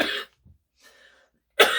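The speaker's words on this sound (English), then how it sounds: "excuse me, I'm going to cough." A single loud cough, then a short pause and a softer throat noise, followed by another sharp cough close to the listener.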